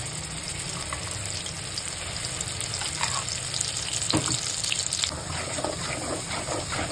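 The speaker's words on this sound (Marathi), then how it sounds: "तेल तापलंय, मी टाकून घेते मसाला हा." Masala paste hits hot oil in a kadhai and sizzles steadily and loudly, a dense continuous hiss with a few scraping stirs and no voices.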